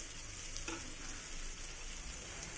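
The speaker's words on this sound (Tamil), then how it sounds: "தக்காளி நல்லா வதங்கணும் ஃப்ரெண்ட்ஸ்" Tomatoes sizzle steadily in a pan for a kudal gravy, a continuous close frying hiss with a faint tap of a spoon partway through, no talking.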